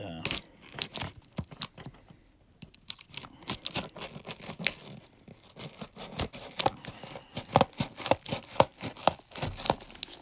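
Rapid crisp snips and crinkling paper sounds come in irregular bursts, close up, with a brief pause before the cutting resumes more busily.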